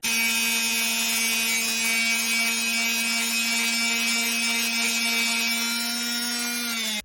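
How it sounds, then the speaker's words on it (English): A basic flat sander works the face of a golf wedge, giving one steady, loud motor whine with a gritty edge that holds for about seven seconds before cutting off. "It's a simple basic sander, flat surface."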